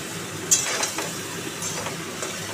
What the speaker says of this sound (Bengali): আলু পটলটাকে ভালো করে নাড়িয়ে নাড়িয়ে